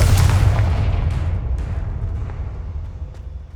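A Confringo fire spell blasts in Hogwarts Legacy, a loud, deep booming explosion that rumbles at the start and then trails off into a long, slowly fading roar with a few faint crackles.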